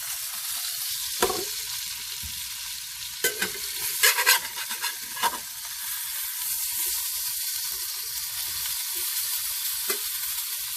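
Keto codfish cakes made with almond flour fry in a pan with a steady soft sizzle, broken by several brief scraping knocks from a spatula, with no talking.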